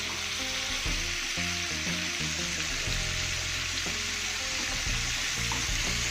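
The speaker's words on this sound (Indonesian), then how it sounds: "Kemudian kita masukkan ikan asinnya." Salted fish frying in a pan for a stir-fry, a steady loud sizzle that runs throughout with no talking, mixed with background music.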